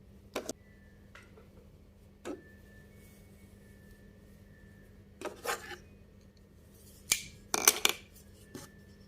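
Small scissors from a crochet and knitting tool kit snip several times, each cut a crisp, close metallic click, spaced irregularly with a quick cluster near the end and quiet between.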